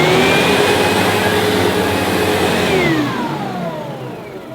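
A Diversey Ensign SM1 Sebo upright vacuum cleaner runs with a loud, close motor roar and whine, then the pitch sinks and the sound fades as the motor slows.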